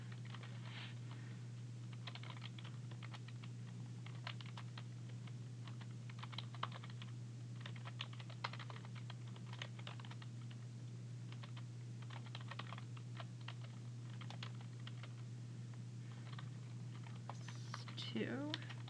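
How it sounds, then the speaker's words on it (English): Rapid keystrokes on a computer keyboard as a math expression with logarithms is typed in, irregular bursts of clicks over a steady low hum, fairly near and alone with no talking. "Let me type it in really quick to make sure."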